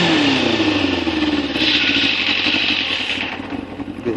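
A Kawasaki ZZR 600 motorcycle engine revs up close and loud, the pitch sweeping upward then holding at a high, steady roar before easing slightly, with no talk over it.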